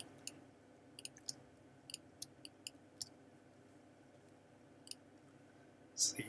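Computer mouse clicks, crisp and close, come in an uneven series of single taps and quick pairs over a quiet room hum, followed by a brief louder rustle at the end.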